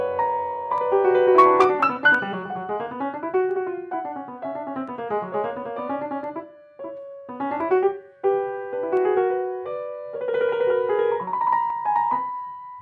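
Solo piano plays the retrograde section of Beethoven's Piano Sonata No. 29, a close, clear passage of flowing single lines and chords with varied phrasing and brief pauses, no voices over it.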